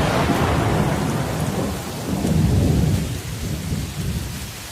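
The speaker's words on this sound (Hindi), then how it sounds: "लगता है बारिश आने वाली है।" Thunderstorm with heavy rain in a cartoon, a deep rolling rumble of thunder swelling and fading over a steady hiss of rain on surfaces, loud and close, with no voices.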